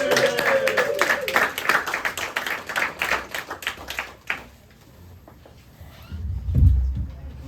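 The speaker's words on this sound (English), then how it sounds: "I want you to get nice and loud for a legend in the Harrisburg comedy scene, Corey Miller." Comedy club audience applauding a comedian at a Harrisburg show, a loud burst of clapping for about four seconds that quickly fades to quiet, followed by a low thump.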